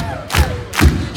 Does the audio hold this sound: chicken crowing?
no